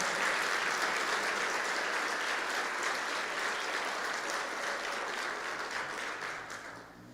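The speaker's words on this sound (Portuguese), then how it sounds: "Você pode aplaudir o nome de Jesus." A church congregation applauding during a Quadrangular worship service, a dense, even wash of clapping held at a steady level before fading slightly at the end.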